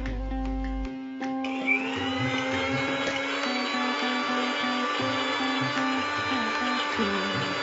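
A mixer grinder whirs steadily as it grinds a thick lentil thuvaiyal made from roasted moong dal. A short knock comes first, then a loud, even motor hum with a whining tone runs close by without pause. Nobody speaks.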